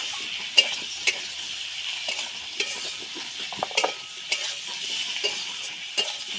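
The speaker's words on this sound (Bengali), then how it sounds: "এবার সব মশলাগুলো কষিয়ে নেব।" Spices frying in a pan while being stirred, giving a continuous soft sizzle broken by regular sharp clinks of the utensil against the pan, close up and with no talk.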